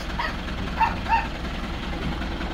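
A young mixed-breed puppy just handed over to a new owner gives two short, high yips with faint whimpering against a steady low rumble, close but fairly soft, with no talking.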